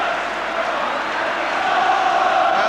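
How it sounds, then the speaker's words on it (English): A Tottenham Hotspur football crowd at the 1984 UEFA Cup Final against Anderlecht, chanting in unison for Danny Thomas, a loud, massed wall of voices that holds steady throughout. "The Spurs crowd are shouting there's only one Danny Thomas to keep his spirits up"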